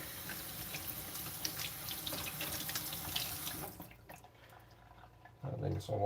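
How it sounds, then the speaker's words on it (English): Water runs and splashes onto a sharpening stone while a 52100 steel blade is being thinned and polished, a steady close trickle that cuts off partway, followed by quieter drips and a low thump. "Adding some water."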